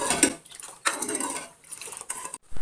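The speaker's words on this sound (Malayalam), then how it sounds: "അത് നല്ലോണം ഒന്ന് മിക്സ് ചെയ്ത് എടുക്കാം." A spoon stirring sugar into a homemade summer drink, giving several light metallic clinks and scrapes against the glass in short bursts, close and fairly quiet.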